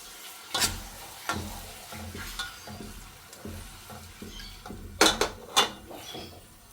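Sliced onions frying in hot oil for Arabian chicken zurbian biryani, a soft steady sizzle punctuated by distinct clanks and scrapes of a utensil against the pan.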